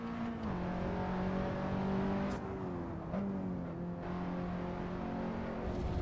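A car on a race track accelerates hard out of a hairpin, the engine drone holding a steady loud pitch from inside the cabin, shifting slightly between gears with faint clicks and no talking.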